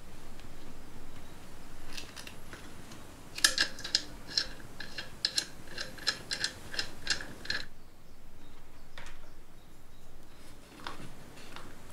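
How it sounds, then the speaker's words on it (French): A run of small metallic clicks and ticks as a screwdriver tightens a connector screw on a ceiling fan, close and fairly quiet, then stopping. "Pour finir, je viens visser le connecteur."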